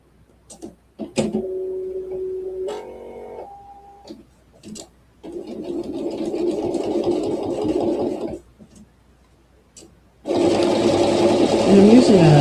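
A sewing machine stitches a quilt seam in short bursts of whirring, each start and stop clearly separated, while a person talks between and over the runs.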